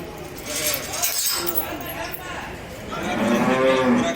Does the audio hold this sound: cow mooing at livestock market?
yes